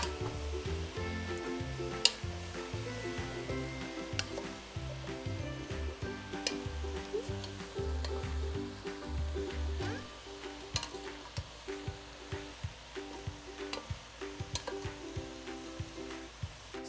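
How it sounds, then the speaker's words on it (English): Mushrooms sauté in a pot for a lentil mushroom stew, a faint steady sizzle with light irregular ticks and pops and occasional stirring, fairly quiet throughout. "So mushrooms have a ton of moisture, so we're just gonna continue to saute them."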